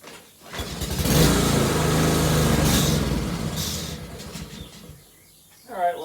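A lawnmower engine with the choke on starts up with a sputter, then revs roughly and unevenly for a few seconds before fading away. A short voice comes in at the very end.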